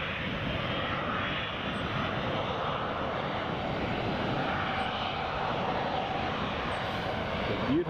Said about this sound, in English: Beautiful sound of CFM 56 engines